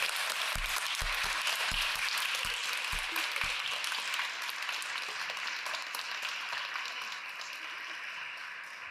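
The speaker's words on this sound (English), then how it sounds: "I think everybody deserves a round of applause" Audience applause at a Shakespeare competition fills the room, dense continuous clapping that stays fairly loud throughout and tapers only slightly toward the end.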